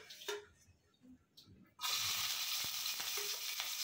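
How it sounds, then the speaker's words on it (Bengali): Chili, onion and garlic hit hot oil together: a few quiet clicks and knocks, then a sudden loud, steady sizzle of frying that carries on close up, with occasional pops and stirring taps. "তেলে মরিচ, পেঁয়াজ, রসুন সব একসাথে ভেজে নেব"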